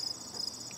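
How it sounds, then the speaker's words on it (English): Continuous high-pitched chirring near a mountain trail, steady and fairly faint, a thin insect-like trill with no voices. "some frogs over here making noises."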